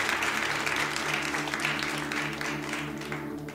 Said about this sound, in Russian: Можете воздать им аплодисменты тоже.